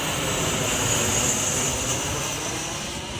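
Passenger plane flying overhead near an airport, a continuous loud jet-engine roar with a high whine, sustained and slowly fading slightly over the few seconds.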